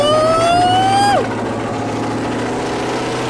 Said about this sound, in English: So let's give this thing a cold start.